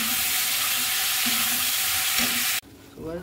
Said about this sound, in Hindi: तो वह हमारे प्याज भुन चुके हैं, अब इसमें हम ऐड करेंगे टमाटर